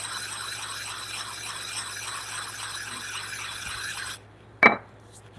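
A wood chisel is sharpened with steady back-and-forth rasping strokes on a stone for about four seconds, close and even. A short silence follows, then one sharp knock or clatter.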